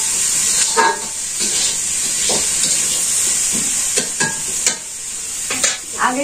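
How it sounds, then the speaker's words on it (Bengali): Rice cooking in a pot in a village kitchen, with a steady loud hiss of steam running throughout, broken by scattered clinks and scraping stir sounds. "ভাত রান্না করছি।"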